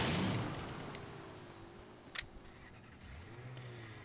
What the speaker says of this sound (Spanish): antes de bajarme, acelero